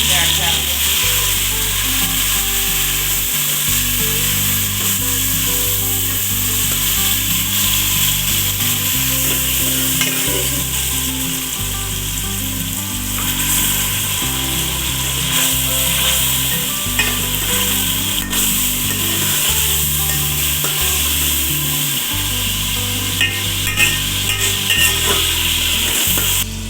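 Tomatoes fry and are stirred into browned onions for chicken yakhni pulao, a loud, continuous close sizzle with steady crackle and scraping stir sounds, alongside a deep intermittent background hum.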